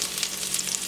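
Bay leaf, cinnamon, star anise and a little onion sizzle steadily in ghee and oil for chicken dum biryani, a close, continuous crackling fry with no voices.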